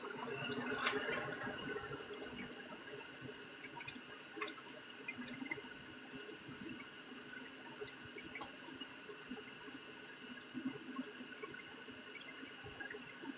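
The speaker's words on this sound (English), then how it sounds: "I know you hear my water running." Water runs steadily from a tap, a faint continuous splashing hiss with a few small clinks, heard alone with no talking.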